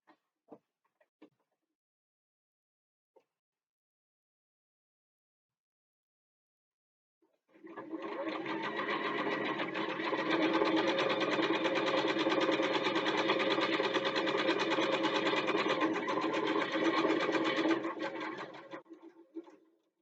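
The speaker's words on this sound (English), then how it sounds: "we're going to sew on 3 sides" A sewing machine stitches a bookbag backpack, running steadily for about ten seconds after a few faint clicks, a continuous close whirring hum that winds down at the end.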